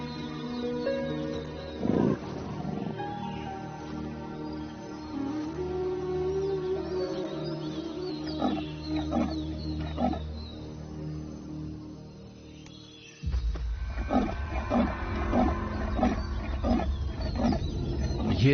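A panther called Scarface roaring in the wild, deep rumbling growls rising over a steady ambient bed, with a heavier roar surging near the end.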